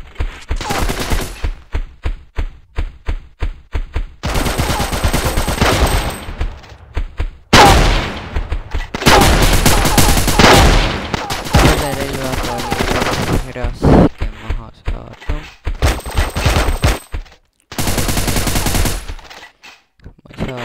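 Loud, close automatic gunfire from a new weapon in a video game, rapid rattling bursts repeating with short gaps between them, alongside occasional talk.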